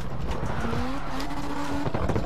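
A Mazda RX-7 drifts in the CarX Tokyo Drift racing game, with a steady engine drone and a sustained tire skid running through the clip. No one speaks.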